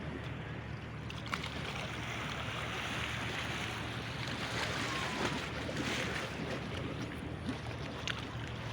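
A calm winter sea sends small, gentle waves washing onto the shore a week after a storm, giving a continuous soft surf wash with occasional wind rumble buffeting the microphone.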